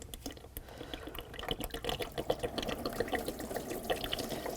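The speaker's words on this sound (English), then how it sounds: "Just let that drain a little." Coolant drains from a removed water pump on a 2001-2005 BMW 325xi into a bucket, a steady close trickling and splashing of liquid with irregular drips.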